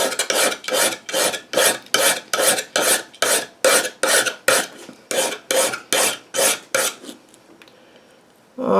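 Steady back-and-forth rasping strokes of a Newfoundland skinning knife on a sharpening stone, about sixteen even, loud passes in a regular rhythm before trailing off into quiet handling noise.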